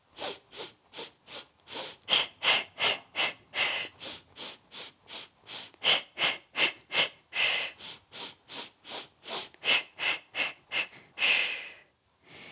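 Quick, forceful breaths in and out during a Pilates class exercise, a long series of sharp close airy puffs in a steady rhythm with brief gaps, no talking.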